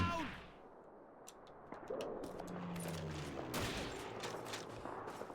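Call of Duty 2 wartime battle gunfire: scattered sharp shots and bursts crackle throughout, fairly distant and busy, with a low rumble beneath.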